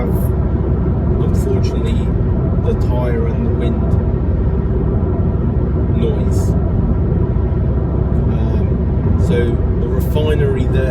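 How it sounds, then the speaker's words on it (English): Steady broadband tyre roar and wind rush inside a 2012 Alfa Romeo Giulietta cruising on cruise control below 2000 RPM, a constant loud drone with occasional brief hiss bursts and a voice now and then. "We do have, unfortunately, the tyre and the wind noise"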